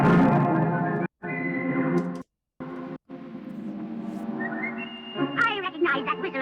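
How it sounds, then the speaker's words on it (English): A cartoon character whistles a long wavering tune in the Kimba animated series, loud and echoing with brief gaps, followed by higher trilling whistle notes. "I recognize that whistle of yours, Hatchet."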